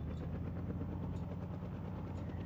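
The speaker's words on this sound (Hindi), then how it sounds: "हम स्काई में देखते हैं ना कभी हेलीकॉप्टर की आवाज़ को" A helicopter in the Indian Bike 3D video game gives off a steady, quiet, low engine rumble with a faint, rapid rotor throb and no talking.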